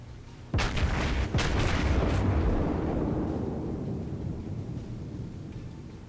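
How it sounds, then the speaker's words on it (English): A warship in the naval combat game World of Warships, the USS South Carolina, fires armor-piercing rounds: two heavy booming salvos about a second apart, each followed by a long rumbling decay. "Now these are AP rounds."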